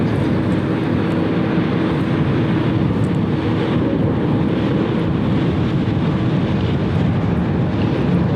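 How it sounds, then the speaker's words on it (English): A United Boeing 737 MAX airliner arriving from Denver at Cleveland Hopkins airport produces a loud, steady broadband roar without pause, with wind buffeting the microphone throughout. "Another 737 MAX."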